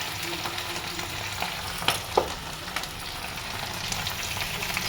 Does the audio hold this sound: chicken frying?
yes